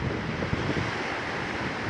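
Sea surf rolling onto a rocky shoreline on the Nakhon Si Thammarat coast, a steady broadband wash of waves mixed with wind buffeting the microphone, continuous and fairly close with no pauses.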